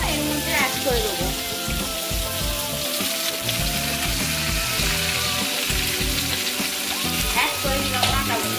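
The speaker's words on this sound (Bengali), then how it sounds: "অ্যাড করে দিলাম ডাঁটাগুলো, দিয়ে একটু নাড়াচাড়া করবো।" Vegetable stalks sizzling in hot oil in a kadai wok where eggplant was just fried, stirred with a spatula: a dense, loud, steady crackle with scraping strokes and clinks, and no talking.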